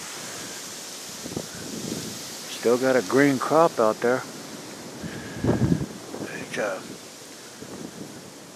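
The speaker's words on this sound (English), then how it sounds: "bear with me, it's a little windy." Wind gusts across a crop field in southern Iowa in January, a steady rushing noise beneath someone speaking close to the microphone.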